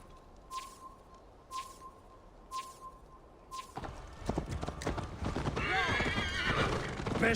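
In Assassin's Creed Valhalla, a horse's hooves clop in a slow, even rhythm, then a loud, rough whinny bursts out and swells over the last few seconds, close and dominant.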